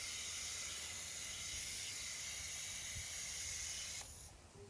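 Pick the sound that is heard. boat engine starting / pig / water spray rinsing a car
water spray rinsing a car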